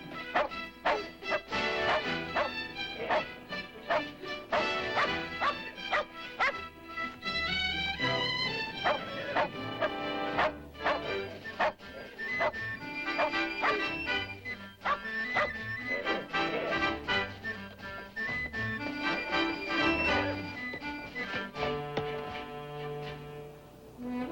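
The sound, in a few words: Shetland sheepdog (Sheltie) barking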